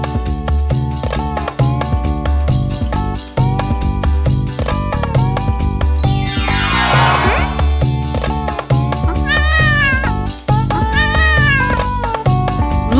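Cartoon cat and kitten meow repeatedly over a loud, busy children's song with steady music throughout; a sliding, whistle-like effect sweeps through midway, followed by rising meow-like cries.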